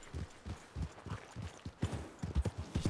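Horse hooves clip-clop in a steady rhythm during a ride across open country in a Western video game, the hoofbeats moderately close, growing louder and quicker toward the end.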